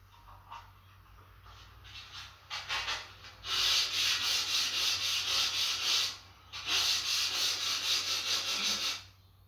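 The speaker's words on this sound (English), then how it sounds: "the timber is placed flat on a surface and sanded with a block and" A sanding block rubs across timber laid flat on a surface in short strokes at first, then in two long, loud, close bursts of scratchy abrasion separated by a brief pause.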